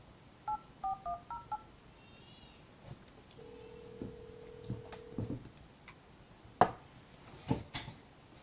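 Quick run of phone keypad dial tones punching in a number to a work phone, followed by a long steady tone and scattered faint clicks and taps, fairly quiet with no talking.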